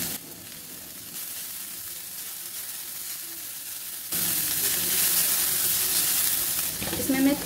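Ginger-garlic paste and green chillies sauté in oil in a pan, giving a steady sizzle that jumps louder partway through as more goes in, with stirring scrapes near the end and no voices.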